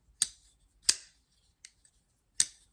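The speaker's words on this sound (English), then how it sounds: "It's a nice, satisfying kind of thwack." A premium titanium folding knife from Bridgeport Knife Co snaps shut in a few sharp, crisp thwacks, three strong clicks and one faint one spaced irregularly over quiet room silence, close and clean.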